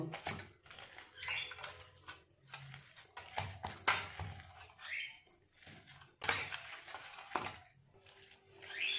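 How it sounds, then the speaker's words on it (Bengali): Chicken being mixed by hand in a bowl with Kashmiri chilli powder, garam masala and a little white oil, giving soft irregular wet squelches and clinks of the bowl, fairly close and continuous. "খুব ভালো করে সমস্ত জিনিসগুলো চিকেনের সাথে মিশিয়ে নেব।"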